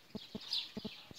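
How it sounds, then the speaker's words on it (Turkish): Geese on a farm at morning, with the Beşparmak Mountains in view, give about five short, faint honks in an uneven rhythm, with distant birdsong chirping behind them. "Kazlar biraz ses çıkarıyor"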